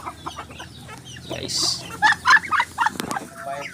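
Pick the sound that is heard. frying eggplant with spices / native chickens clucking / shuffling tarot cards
native chickens clucking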